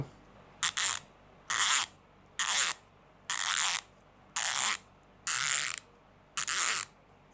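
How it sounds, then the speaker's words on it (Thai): Left-side drive BMX rear hub with full sealed bearings and 14 mm axle, freewheel ratchet clicking in seven quick bursts as it is spun, each a dense, close buzzing rattle separated by short pauses. "ดุมหลังขับซ้ายนะครับฟูลแบริ่งแกน 14มิล"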